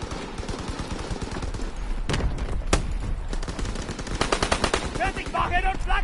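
Shotgun and other gunfire in the World War II shooter Call of Duty WWII, loud repeated blasts and rapid bursts throughout, dense combat noise with no speech.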